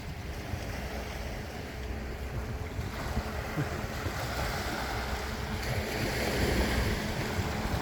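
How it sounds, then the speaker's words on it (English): Steady broadband wash of surf and wind on the Icacos shoreline with a low rumble from a distant bait-catching boat engine offshore, continuous and fairly loud throughout. "boat in the distance there catching bait"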